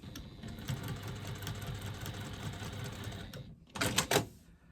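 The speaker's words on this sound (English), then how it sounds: "And I'm doing my rows of stitching." A sewing machine runs steadily while stitching rows on a fabric pop-it pouch, a continuous mechanical whir for several seconds that cuts out briefly and then gives a couple of short louder bursts near the end.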